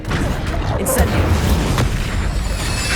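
An Incendio fire spell is cast in Hogwarts Legacy. A sharp, loud burst lands about a second in, over a dense rumbling bed of game noise, with a voice present in the mix.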